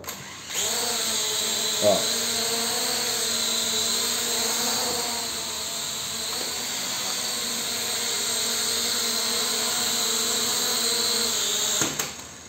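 A small camera drone flies slowly at its lowest speed setting, giving off a steady, high, buzzing whine from its propellers that holds level throughout, with a couple of faint clicks and a short exclamation from a nearby voice.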